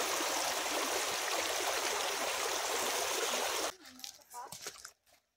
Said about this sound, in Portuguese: a gente veio aqui nesse outro ponto, aqui nesse outro córrego, perto do rio